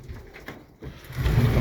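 Birmingham Roller pigeons coo softly inside a loft, a brief, low, murmuring call against quiet background rustle.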